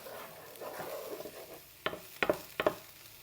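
Shallot dropped into hot oil in a pan on an induction hob, giving a soft bed of frying hiss followed by a few sharp, close sizzling bursts as the pieces hit the oil.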